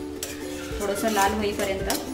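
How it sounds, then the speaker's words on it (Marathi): Coconut, ginger and garlic paste stirred in hot oil in a pan, a soft scraping and faint sizzle with utensil clinks beneath a voice speaking throughout. "तेल घेतलेलं आहे त्यामध्ये आपण जी ही खोबरं अद्रक लसूणची पेस्ट घेतलेली आहे ती थोडीशी अशी परतून घेणार आहे"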